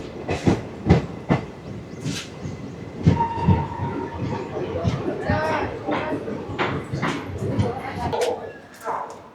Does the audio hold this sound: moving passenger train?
yes